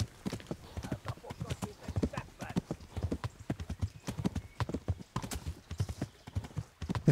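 A horse gallops in the medieval video game Kingdom Come: Deliverance, its hooves pounding in a rapid, uneven beat close by, while someone talks over it.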